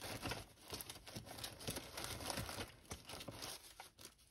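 Spare plastic bags and small craft supplies crinkling and rustling up close as they are handled and packed into a storage container, with steady crumpling noises and a few sharper crackles throughout.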